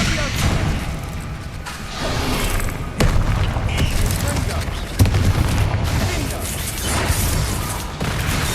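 Blasting spell explosions from Hogwarts Legacy combat, dense and continuous with several sharp booming bursts around the third and fifth seconds, layered over battle noise and chanted spell names.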